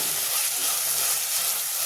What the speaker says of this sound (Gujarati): સરસ એવું તેલમાં સાતળી લેવાનું છે